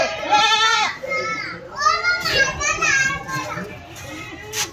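Malwa goats bleat in repeated, wavering calls at a goat farm, close by and mixed with people talking nearby.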